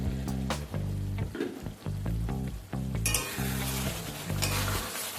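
Ridge gourd and potato posto is stirred in a pan, a spoon scraping and clinking in repeated strokes over a close, steady sizzle, with a sharper hiss starting partway through.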